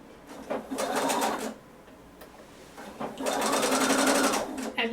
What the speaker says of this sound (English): I'm going to backstitch at the beginning of this and at the end